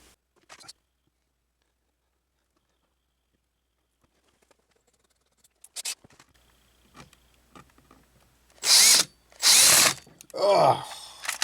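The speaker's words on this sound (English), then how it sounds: "I think I'm going to drill my holes first." Power drill boring holes in a VHS cassette shell being turned into an amp footswitch, three loud whining bursts near the end after mostly quiet handling noises, close up.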